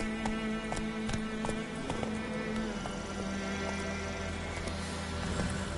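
The horse Roach gallops in a video game, its hooves making rapid, rhythmic clip-clops up close that continue steadily throughout.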